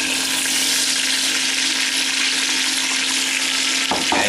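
Onions hitting a hot pan beside browned lamb for a rustic stew, giving a loud, steady, close frying sizzle that continues without pause and with no voices.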